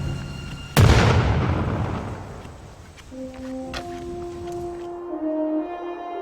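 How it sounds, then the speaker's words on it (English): A single cannon blast fired in 1521 booms out loud and sudden, its deep rumble decaying slowly over several seconds before low sustained tones and faint clatter take over. "lit in the year 1521 with the single blast of a cannon"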